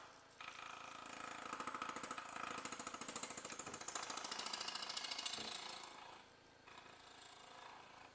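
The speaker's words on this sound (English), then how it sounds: "So now I can sand that a little bit." A wooden cabriole leg is sanded with a power tool, a rough, rapidly pulsing buzz that holds steady and close for several seconds, then eases slightly.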